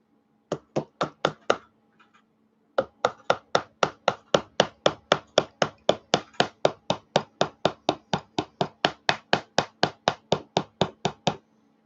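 A 32 mm impact socket being tapped into place with a hammer: a few sharp knocks, a short pause, then a long, steady series of evenly spaced, crisp taps.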